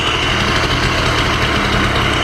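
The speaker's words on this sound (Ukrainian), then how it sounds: "мотор працює чисто" A Karpaty moped fitted with a Honda Dio piston idles steadily up close, a loud, even engine drone with no talk.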